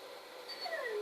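Tamed Minecraft dogs whimper softly while being healed, a pair of thin, sliding whines that rise and fall over steady background hiss in the second half.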